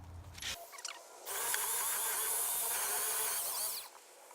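Up close, a power drill whines steadily for a couple of seconds as the bit bores through a carved wooden fairy house door, after some brief handling noise, then cuts off.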